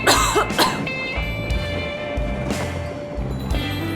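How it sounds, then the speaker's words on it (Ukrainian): A character in Metro Exodus coughs several times at uneven intervals, harsh and throaty, over a steady background hum. "Кашель цей дурнуватий"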